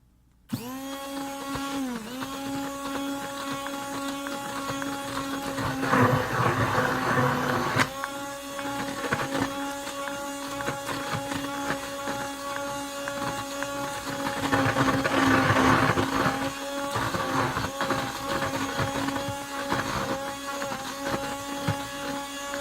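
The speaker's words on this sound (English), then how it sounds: "you gotta stop the blender before you take it out" A steady electric whine of a handheld stick blender runs continuously through thick hot-process soap, its motor pitch wavering slightly and rising in intensity twice.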